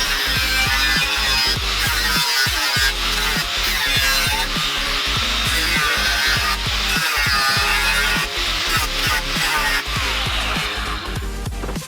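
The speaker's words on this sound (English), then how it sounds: "start taking it back out with the die grinder until I get the right shape" A die grinder shapes metal for a pivoting steering wheel, giving a loud, close, continuous high-pitched whine broken by rough grinding and scraping bursts throughout.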